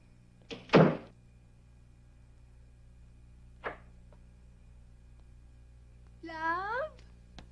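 A door closed with a sharp thump and then a smaller click, like a lock catching, followed after a pause by a distant knock. A person speaks briefly near the end.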